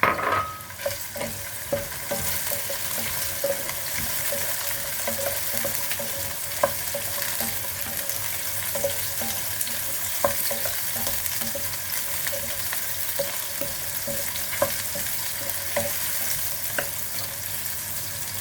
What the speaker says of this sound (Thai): ใส่หอยเชลลงไปผัด